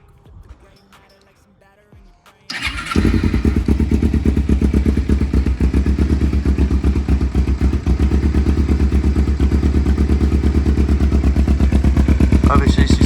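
A cold Kawasaki Ninja 250 with a fake Yoshimura R77 slip-on exhaust and a bung fitted starts up after quiet handling noises, then idles loud and close with a rapid, steady, throbbing putter.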